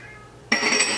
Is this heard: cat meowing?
yes